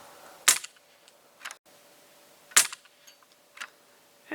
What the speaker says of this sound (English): What the hell, let's try a shot at that